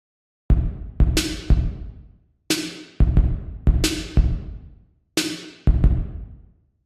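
Drum pattern sequenced in a Native Instruments Maschine with a reverb effect loaded: a loop of sharp kick, snare and hat hits, each tail washing out in a long reverberant decay, heard alone in a steady rhythm.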